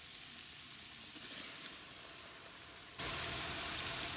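Mint leaves and onions sautéing in a pan over a village-style fire, a steady frying sizzle that jumps suddenly louder partway through, close with no talk.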